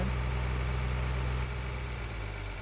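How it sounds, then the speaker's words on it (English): Combine harvester engine in the Farming Simulator 2013 video game, a steady low droning idle that shifts slightly in pitch partway through, with no talking. "There's our nice combine."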